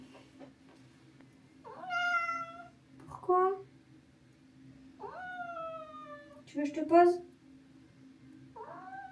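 A pet cat meows repeatedly indoors, several drawn-out rising meows close by, while someone talks to it in French between and over the calls.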